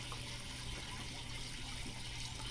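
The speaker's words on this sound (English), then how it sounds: "I've been putting a little bit of water in this off of camera for a minute or two now" Water pours steadily into a lawn sprayer tank, giving a continuous low, hissing fill that stays even and moderately close for the whole moment, with no talk.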